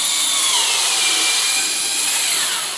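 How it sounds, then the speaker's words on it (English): A variable speed drill mixes glaze in a fairly full bucket, a steady, loud whirring hiss that holds an even pitch throughout with no talking. "It's a variable speed drill."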